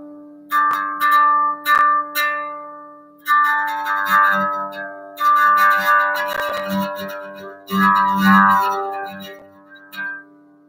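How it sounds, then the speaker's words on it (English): An EBow drives the strings of an electric guitar, producing sustained, singing tones with a grainy buzz. Several long notes swell in and cut off as the bow moves from string to string, played alone with no talk. "that grainy sound is definitely from the string vibrating against his dynamo"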